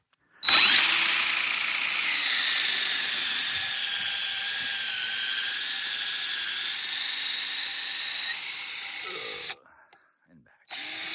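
Power drill running close up while building a bridge in a forest, a long steady high whine that pitches down slightly under load before stopping, then briefly restarting.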